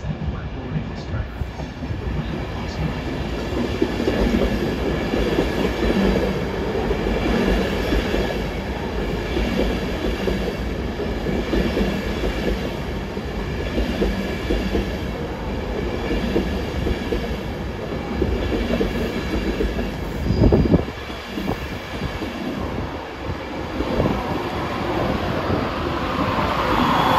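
A nine-coach passenger train rumbles and clatters at a station, a loud continuous roll of wheels and carriages that runs throughout, with a brief louder clunk near the end.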